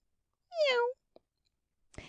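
A voice imitates a kitten's meow in one clear, drawn-out falling cry, followed by a brief faint click and a short breathy sound, with no other talk.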